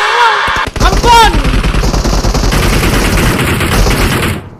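Rapid, loud automatic gunfire in the mobile game PUBG Mobile, a dense continuous burst with sharp shots at the start, heard close over game sounds with excited voices around it.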